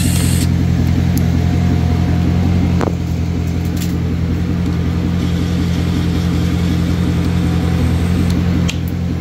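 Chevrolet Corvette Grand Sport engine idling steadily while warming up, a loud continuous low rumble close by with no voices.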